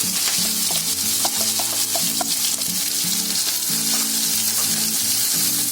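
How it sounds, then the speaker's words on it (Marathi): Onion dropped into hot oil with cumin seeds, a bay leaf and two cloves, frying with a loud, dense, continuous sizzle close up, with no talking, while sprouted black chickpea curry is being prepared. "आता त्याच्यामध्ये आहे ना कांदा टाकते."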